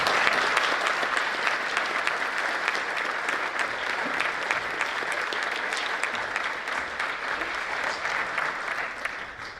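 An audience at the Bellows Falls 2024 Downtown & Historic Preservation Conference applauds. The clapping is sustained, dense and even, and carries on for nearly ten seconds without a break.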